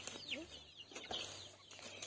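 Faint chicken clucks and chirps against quiet background noise, a few short calls scattered over a couple of seconds.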